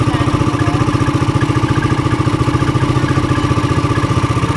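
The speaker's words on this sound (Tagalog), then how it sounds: "Napakasarap ang takbo ng motor natin" Motorcycle engine running steadily at a constant pace while riding along a road, a loud, even pulsing drone with a faint clatter and no voices.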